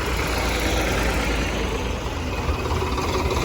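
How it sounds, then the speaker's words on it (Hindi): A farmers' tractor march of over a hundred tractors in Haryana on Republic Day, 26 January 2025, makes a dense, steady engine roar and rumble that fills the air continuously without a break. "ला भाई ट्रैक्टर मार्च निकल गया है, कम से कम भी 100+ ट्रैक्टर आए हैं भाई।"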